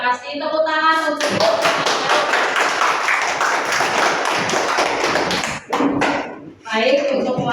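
Group of teachers clapping together in a meeting room, a loud burst of applause lasting about four seconds and cutting off abruptly, framed by a voice speaking before and after.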